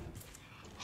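A dog in the survival video game Raft gives a faint, brief whimper with soft yips, heard quietly at low volume over a hushed background.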